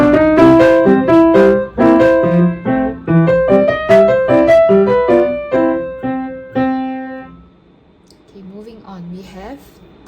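Piano plays a passage from a ragtime piece, lively detached notes in a bouncing rhythm, close and clear, then stopping as a voice briefly follows.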